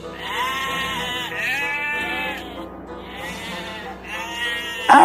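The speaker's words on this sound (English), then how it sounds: "Pull your flocks back. They can drink after we finish and head to pasture." A flock of sheep bleats at a watering place, several overlapping wavering calls rising and falling continuously, fairly loud and close, with no talk over them.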